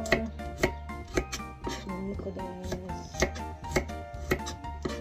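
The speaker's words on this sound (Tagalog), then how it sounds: "Ayan, slice na tayo ng bawang." Garlic being sliced with a knife on a board, a run of crisp, rhythmic chopping taps, close and clear, about ten strokes in five seconds.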